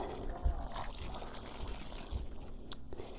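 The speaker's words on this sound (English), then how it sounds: "I have a whole pitcher of water, and I'm just going to dump all that in" A pitcher of water is poured onto garden soil while planting zinnias, a continuous close splashing pour with small gurgles and trickles.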